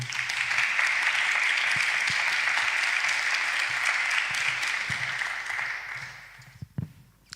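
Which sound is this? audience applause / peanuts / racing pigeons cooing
audience applause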